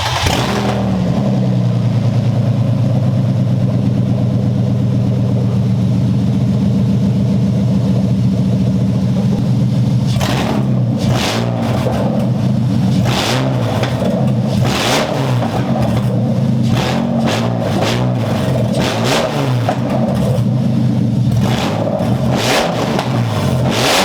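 A BMW E36 M3 with a headers-back exhaust and nothing after the headers idles loud and rough after a two-month cold start, then breaks into a series of sharp throttle blips and revs that rise and fall repeatedly.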